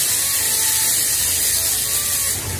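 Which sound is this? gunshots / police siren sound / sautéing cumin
sautéing cumin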